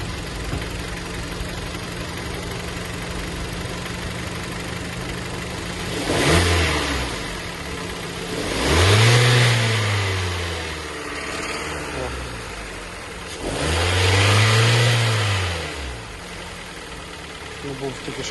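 A 2012 Kia Sportage engine idles, then revs up twice and holds each time at a raised, steady pitch around 2,500-3,000 rpm before dropping back to idle, close by.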